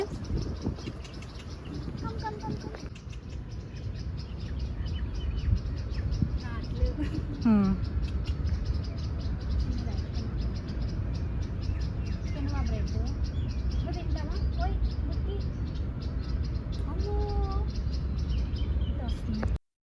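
Birds calling at a peacock park in Dubai with pigeons about, scattered chirps and calls rising over a steady outdoor background with people talking throughout.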